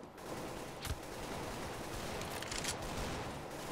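Continuous video game gunfire from a competitive shooter match, a steady dense crackle of shots running throughout with a couple of sharper cracks standing out, fairly loud and with no talking.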